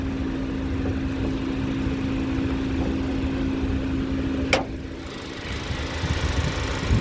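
A 2022 Hyundai Tucson's 2.5-litre GDI direct-injection petrol engine idles under an open hood, a steady close hum with a constant low tone, interrupted by one sharp brief click midway.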